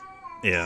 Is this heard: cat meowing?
yes